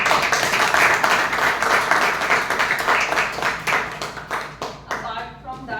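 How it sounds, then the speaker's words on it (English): Audience applause at a Toastmasters club meeting, lively rhythmic clapping with distinct hand claps that thins out toward the end as a few voices and a tone come in. "So please give them a huge round of applause."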